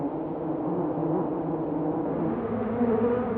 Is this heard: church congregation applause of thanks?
no